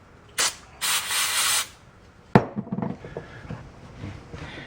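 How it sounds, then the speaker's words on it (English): Brake cleaner hisses from an aerosol can onto a rag in two short close bursts, a quick one then a longer one, followed by handling and rubbing noises, during front brake work on a 2005 Ford Explorer Sport Trac. "Gonna spray a little brake cleaner on the rag."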